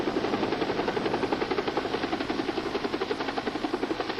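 A medical air transport helicopter's rotor beats in a fast, even chop, loud and steady throughout, with no voices over it.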